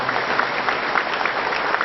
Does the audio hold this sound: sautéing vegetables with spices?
no